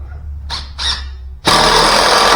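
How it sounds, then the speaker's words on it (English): A power driver runs 3-inch construction screws into a shop bench top: two short whirring bursts, then a loud, sustained drive up close. "Otherwise I think we're ready to start running in the screws"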